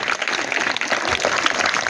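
A room of spectators claps steadily for a quiz team after a scoring round, a dense, even patter of hands close by with no talking over it.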